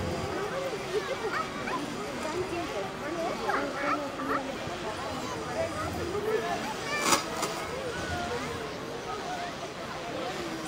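Military police dogs moving in a column at an army anniversary display, with excited barking, yips and whimpering from several dogs amid crowd noise and someone talking over a loudspeaker.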